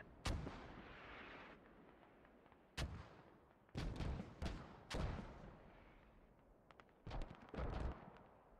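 An artillery barrage in the military shooter Squad: a series of heavy booming impacts, around eight distinct blasts in irregular succession, some in quick pairs, with rumbling tails, heard at moderate distance and fairly quiet overall.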